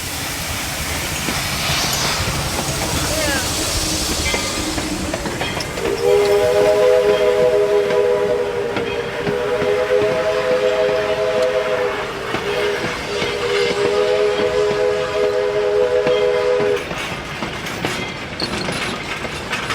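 A steam locomotive from a Tahoe and Glenbrook double header rumbles and chuffs along, its whistle blowing in long sustained blasts over the steady running noise of the train.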